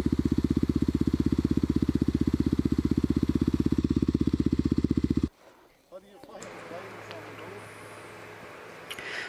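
Kawasaki KLX250SF supermoto engine idling with a rapid, even thump close to the microphone, cutting out abruptly midway and leaving quieter outdoor rustling and a voice.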